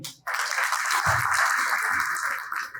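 An audience at an AWPL Diamond Celebration event breaks into a short burst of applause, many hands clapping steadily for under three seconds after a brief pause.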